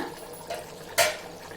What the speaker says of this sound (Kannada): 1 ಟಂಬ್ಲರ್ ಅಕ್ಕಿಗೆ 2 ಟಂಬ್ಲರ್ ನೀರು ಹಾಕ್ಕೊಂಡಿದ್ದೀನಿ.